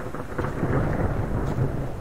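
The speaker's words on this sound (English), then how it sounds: "Oh, here comes the thunder again, and the rain." Thunder rumbles low and steady under heavy rain pattering down in the survival video game Subsistence, a continuous wash of storm noise with no voices.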